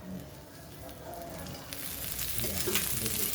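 Onions fry in oil in a pan while a masala paste is made, giving a soft steady sizzle that grows louder and brighter toward the end, with occasional light stirring sounds and no speech.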